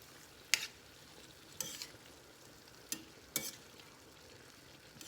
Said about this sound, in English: just stir all that together